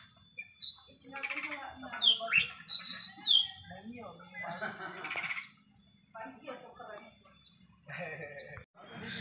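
A pet bird kept at a house with bonsai pots gives sharp chirps and short squawks, close by and in scattered bursts, while people talk over it throughout.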